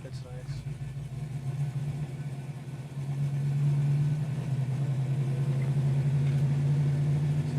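A 1970 Dodge Charger 500's engine pulls away in first gear from a rolling start, its low steady drone swelling louder about midway and holding strong, heard from inside the car.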